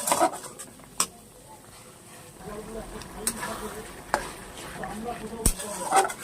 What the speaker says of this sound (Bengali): ধনের গুঁড়ো, দিলাম হলুদ, দিয়ে এটা ভালো করে নাড়াই নেব।